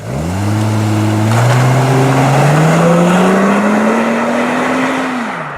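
Plymouth Prowler convertible from the 1990s driving with the top down, its engine rising steadily in pitch as it accelerates through a long pull before easing off, loud and close with wind noise and no talking.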